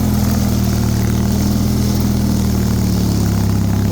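A Bolens HT23 snow blower engine labors through heavy, wet, melting deep snow, giving a loud, steady, close-up drone with a deep pulsing hum throughout.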